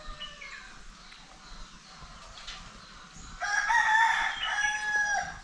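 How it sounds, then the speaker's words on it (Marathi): A rooster crows out loud nearby in the second half, a drawn-out call breaking over quiet outdoor ambience with faint background noise before it. "त्यासोबत कोंबड्याची म्युझिक पण आहे बघा."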